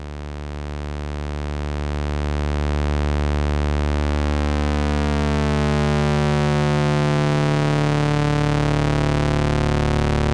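A Moog Sub 37 synthesizer holds a sustained bass note that swells in over the first few seconds, then fills out into a warm, saturated drone with slowly shifting upper harmonics, steady and loud with no voices.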